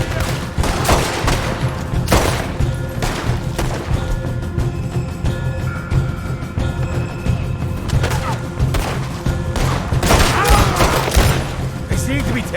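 Repeated loud gunshots and volleys ring out throughout a chaotic firefight in the Red Dead Redemption 2 video game, mixed with crashing impacts and shouting voices.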